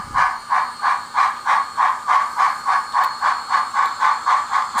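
A model steam locomotive chuffs in a steady, even rhythm of about three beats per second, each puff a soft hissing burst, with a faint constant whine underneath and no talk.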